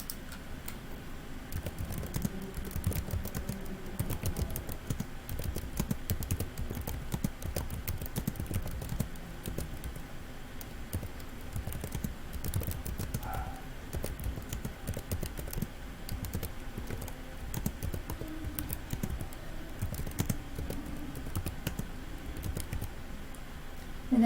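Steady, rapid typing on a computer keyboard during a TypeRacer typing test, dense clicking keystrokes continuing without pause throughout, close and moderately loud with no talking.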